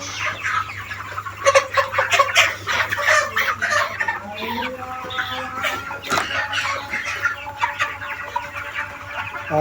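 Broiler chickens on a contract farm cluck and squawk continuously, a close, busy chorus of overlapping calls with louder bursts near the start.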